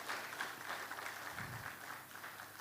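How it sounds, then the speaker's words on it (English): Applause from an audience at an investors' roundtable in Lagos, a steady broadband patter of many hands at moderate distance, even and sustained throughout with a brief low rumble near the middle. "Can we give that a round of applause?"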